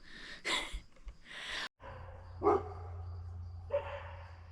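Dogs barking outdoors in the woods, a few loud, nearby barks in short bursts separated by quiet gaps over a low steady hum.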